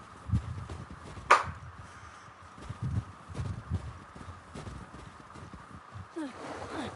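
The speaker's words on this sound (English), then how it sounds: "I get on my horse and go." Horse hooves clip-clop at a walking pace in The Last of Us Part II, a run of soft, fairly close thuds with one sharp louder knock partway through, over a faint steady game background.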